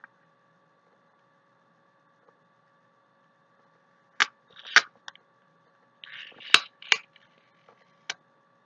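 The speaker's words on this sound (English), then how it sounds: "I was getting this piece of plastic off the setting powder" Plastic film being peeled and picked off a setting powder container, a cluster of sharp close crinkles and snaps against a quiet room, irregular and brief, with long silence before them.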